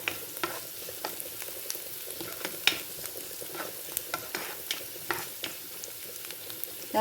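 Something sautés in a pan before tinned fish goes in, a soft continuous sizzle punctuated by frequent light clicks and taps of a stirring spoon, close by with no talking.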